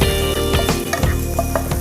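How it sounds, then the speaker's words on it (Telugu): Vegetables for a carrot parota fry in a pan, giving a loud, steady close-up sizzle broken by repeated scraping stirs, with no talking. "ఇవన్నీ కూడా చక్కగా ఫ్రై అయిపోయాయి"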